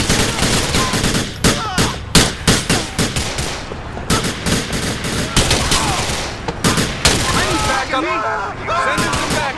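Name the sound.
gunfire in the video game GTA IV LCPDFR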